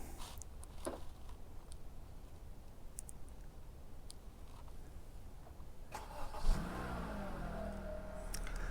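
A 2023 Honda HR-V starts up after several quiet seconds of faint clicks and handling noise, then the engine turns over with a short rising rev before settling into a steady idle close by.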